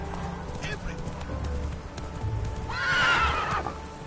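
Roach, a horse in The Witcher 3, gives a loud whinny near the end over a steady clip-clop of galloping hooves, with game speech faintly in the mix.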